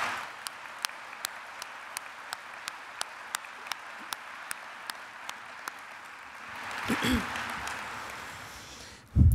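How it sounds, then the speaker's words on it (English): Applause at a college honors program medal ceremony begins as a few evenly spaced, slow single claps, then swells into a fuller burst of clapping from the audience near the end. "please join me in a round of applause for everyone who contributes to this really exceptional program"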